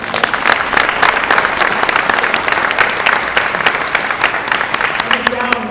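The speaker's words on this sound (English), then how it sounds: "you can definitely applaud that." Audience applause at a political speech, a dense burst of clapping that stays loud and continuous across the whole stretch.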